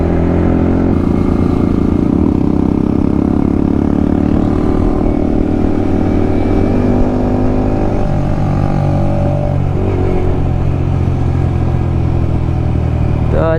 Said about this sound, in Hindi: इसीलिए अभी वही व्हीली की प्रैक्टिस करने वाले हैं